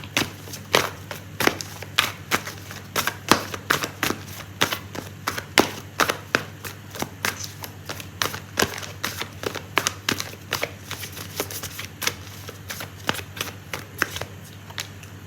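Oracle cards being shuffled for a tarot reading, a steady run of crisp papery riffles and taps lasting throughout, close and fairly loud over a low constant hum, with no talking.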